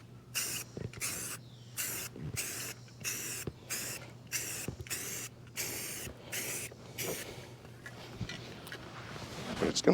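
Black paint hisses from a spray can onto a Jeep CJ5 hardtop in short, repeated bursts with brief pauses between them, close up and fairly loud, over a low background hum.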